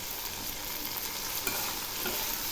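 Ground spice paste of cumin, ginger and radhuni seed sizzles steadily in a pan while being stirred, a close, continuous frying hiss with soft scraping, prepared for a yardlong bean and potato curry, with no voices.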